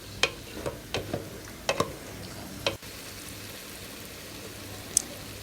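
A wooden spatula stirs jollof rice sauce in a pot, making a few light scraping taps over a soft steady sizzle, then a short quiet stretch with one more tap.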